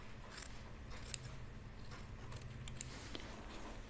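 Scissors trimming the excess interfacing hanging off a dress edge give a few faint, quiet snips spaced irregularly over low room noise.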